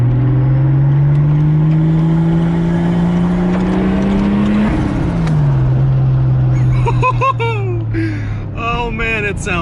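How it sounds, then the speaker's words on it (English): Toyota Supra engine with a turbo, a loud sustained drone that climbs slowly in pitch, drops, then runs on with the turbo whistling over it, while a voice speaks near the end. "you can hear the turbo so good"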